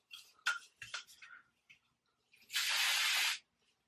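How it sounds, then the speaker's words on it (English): A few soft rustles and taps, then a single loud hiss of TRESemmé hairspray sprayed onto hair extensions lasting about a second, close to the microphone. "I'm gonna spray my bang back. I'm just using Tresemme hairspray"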